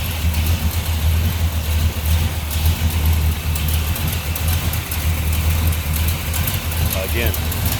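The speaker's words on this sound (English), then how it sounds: "see and hear the engine running" A 1968 Pontiac GTO with a 400 V8 idling, a steady low rumble close by with someone talking over it throughout.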